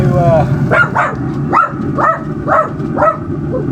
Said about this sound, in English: little dogs are just antsy to bark at anything, even if it's nothing